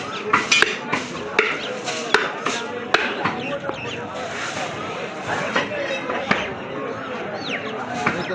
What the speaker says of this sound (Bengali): এখন রান কাটার জন্য সাইজ করা হচ্ছে।